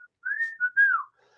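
A person whistles a snippet of The Andy Griffith Show theme, a brief wavering melodic phrase of a few notes, fairly quiet and close, with no talking.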